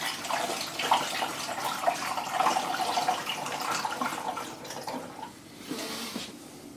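A Sage Dual Boiler espresso machine flushes water through, giving a steady rushing, splashing hiss that runs for several seconds and then tapers off.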